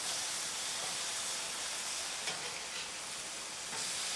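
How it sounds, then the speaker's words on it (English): Bacon cooks on a flat top grill, producing a continuous loud hissing sizzle that stays even and unbroken, heard close with no talk over it. "Our bacon's cooking."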